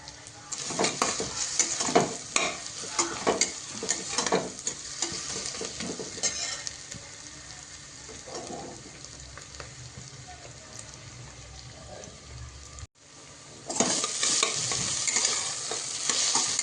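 Chopped onions sautéing in a pan for veg biryani, a steady hiss of frying with intermittent scraping stirs, fairly quiet, the sizzle swelling louder near the end.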